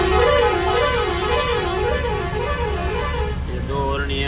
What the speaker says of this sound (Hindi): और हॉर्न की एक झलक आपको बता देते